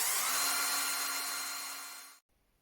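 A power drill boring a hole through the plastic housing of a small solar LED lamp, a loud, high whine held for about two seconds that fades slightly and then stops abruptly.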